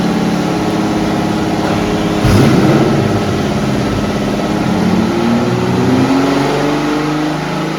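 Ferrari V12 engine from a 2016 Ferrari installed in a 1968 Ferrari P4 replica, starting with a sharp catch then revving hard and loud, the pitch rising and falling steadily throughout.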